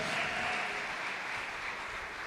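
Steady clapping from a church congregation, soft and somewhat distant, continuing evenly without pause and with no voices.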